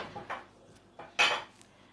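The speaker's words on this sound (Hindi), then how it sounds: "अब इसको हम हटा लेते हैं और यहाँ पे रख देते हैं अपनी कढ़ाई जिसमें हम बनाएंगे तड़का।" A metal kadhai is lifted off and set down on a kitchen stove for tempering, giving a few short clanks and scrapes, the loudest knock near the end, close by with no talk.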